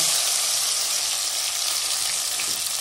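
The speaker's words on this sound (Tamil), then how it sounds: "பூண்டும் வெங்காயத்தையும் சேர்த்துக்க போகிறோம்." Crushed onion and garlic sizzle loudly in hot oil with mustard seeds in a pan, a steady, dense frying hiss heard up close with no talking.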